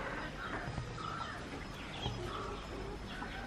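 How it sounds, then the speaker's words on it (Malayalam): Chickens clucking softly in a backyard where they are raised, faint and somewhat distant, with scattered short calls over a quiet outdoor background. "ദേ കണ്ടോ ഇവിടെ നിറച്ചും കോഴികളാട്ടോ ചേട്ടൻ കോഴിനെയൊക്കെ വളർത്തുന്നുണ്ട് കണ്ടോ"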